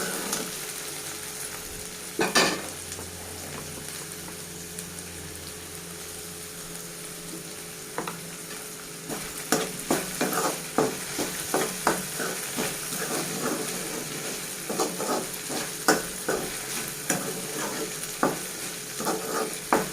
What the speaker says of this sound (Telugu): బెండకాయలు అయితే కొంచెం మగ్గుతున్నాయి కదండి.